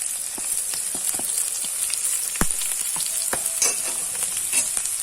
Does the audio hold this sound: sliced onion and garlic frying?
yes